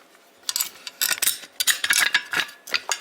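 A lock cable threaded through a rifle's bolt and magazine, giving close, dry metallic clicks and ratcheting scrapes in quick irregular bursts, with no talking.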